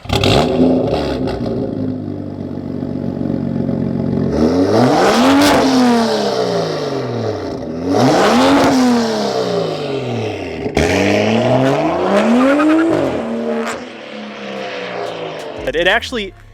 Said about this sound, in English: Getting a full 3-inch thin wall exhaust pipe creates a different tone out the back.